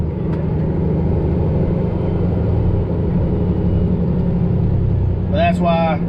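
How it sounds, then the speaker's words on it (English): Big rig truck engine running steadily through a 10-speed manual transmission while gears are floated, a loud continuous mid-range drone with a brief higher whine near the end. "Rev it up about 1200, it goes right into 9th, and then you can go down to 8th."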